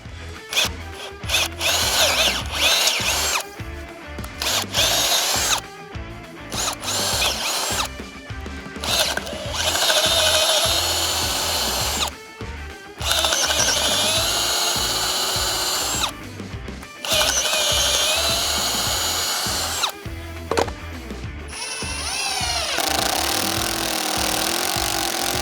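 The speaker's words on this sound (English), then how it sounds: "Bigger drill bit this time." A power drill with a bigger bit whines loudly through wood in long bursts, stopping and restarting several times with brief pauses between runs.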